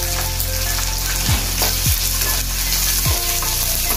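Onions fry with garlic and green chillies in a tempering for tomato rasam, giving a loud, continuous sizzle broken by a few scraping stirs of the pan.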